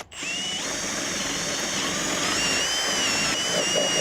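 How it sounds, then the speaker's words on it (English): A power drill bores through house siding and wall sheathing into a basement: a steady, high-pitched whine with a grinding edge that runs continuously, close up and loud, after a brief start. "I'll switch back to a drill bit to drill through the rest of the sheathing and into the basement"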